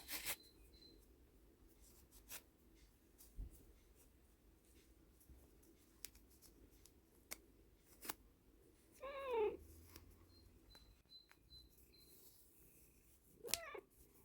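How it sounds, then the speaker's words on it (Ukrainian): Cats close by indoors beside someone sewing, with one brief clear meow and another short call amid quiet rustling and faint clicks, mostly soft and intermittent. "Як чуєте, в мене помічники котики тут біля мене."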